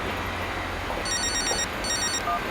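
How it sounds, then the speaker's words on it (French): A telephone rings in two short electronic bursts over steady background noise, fairly faint and with no talk over it. "Allô Ludivine."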